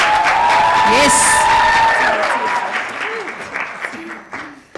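An audience at a women-in-media mentoring event applauds and cheers loudly as a guest is called up, with a ululating voice over the clapping that tapers off while voices continue.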